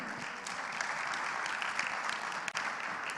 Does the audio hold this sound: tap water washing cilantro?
no